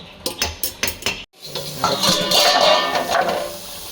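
A metal spatula scrapes and knocks against a pot as mutton curry is stirred, several sharp rhythmic clanks first, then a brief gap followed by continuous scraping and sizzling.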